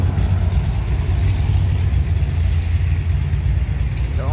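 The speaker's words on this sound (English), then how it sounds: "I know it's pretty noisy with all this traffic" Steady road traffic rumbles close by beside a courthouse lawn memorial, a continuous low engine drone with passing vehicles blending into one loud, unbroken wash and no voices.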